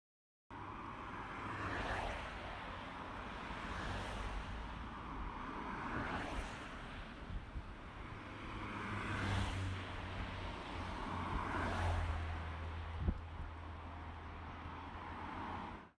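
Cars pass near a woodland by Nam Fung Road, repeated swelling whooshes of traffic rising and fading every couple of seconds over a steady low rumble, moderately distant.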